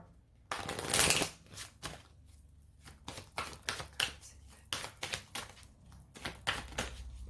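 Oracle cards from a heart-chakra deck shuffled and drawn up close, an opening riffle burst then a run of crisp separate card snaps and slides, over a faint low hum and without speech.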